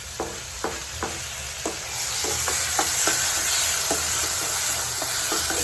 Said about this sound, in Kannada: ಈರುಳ್ಳಿ ನಂತರ ಕರ್ಬೇವಿನ ಸೊಪ್ಪು ಈ ರೀತಿ ಫ್ರೈ ಆಗ್ತದೆ.